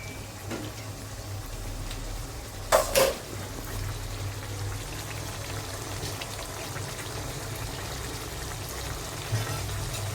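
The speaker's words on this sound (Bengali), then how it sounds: "এবার এটা একটু ফুটতে থাকবে যাতে পোস্ত সমস্ত সবজির সাথে ভালোভাবে মিশে যায়" Poppy seed (posto) vegetable curry simmering in a pan, giving a soft, steady bubbling and crackle, faint and close, with a couple of brief louder clatters early on.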